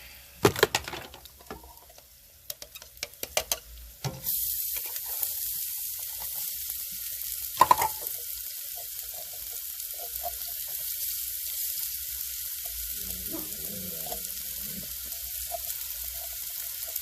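Garlic drops into a hot frying pan with a few sharp clatters, then breaks into a sustained, fairly loud sizzle that carries on steadily, with a brief knock partway through and no speech.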